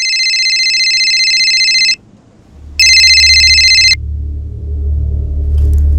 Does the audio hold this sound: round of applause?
no